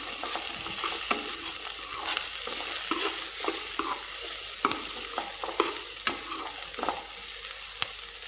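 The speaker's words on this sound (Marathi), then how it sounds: "सर्व भाज्या ज्या आहेत त्या आपल्याला 2 ते 3 मिनिटापर्यंत परतून घ्यायच्या आहे" Mixed vegetables sautéing in a pan for Maggi noodles, a continuous close sizzle broken by frequent clacks and scrapes of a spatula stirring in an irregular rhythm.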